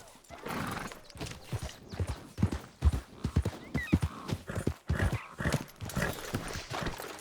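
Horse hooves clip-clop in a steady rhythm, broken by a whinny, in the video game Red Dead Redemption 2, with soft background texture throughout.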